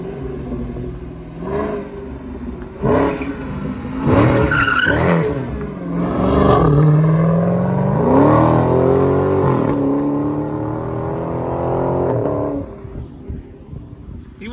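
A Mopar Hemi car revs hard while sliding, the engine roar rising and falling with tire squeal mixed in, loud and close at first, then a long sustained howl easing off toward the end; voices are faintly present.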